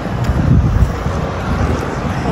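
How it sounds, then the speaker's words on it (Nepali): Cold wind gusts outdoors along a city road, buffeting the microphone with a loud, continuous low rumble that swells briefly before steadying. "अब यतातिर चिसो हावा चलिरहेको छ।"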